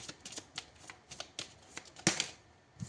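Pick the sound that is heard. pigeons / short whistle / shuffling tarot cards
shuffling tarot cards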